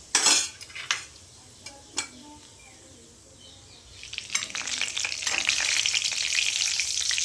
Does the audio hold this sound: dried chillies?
yes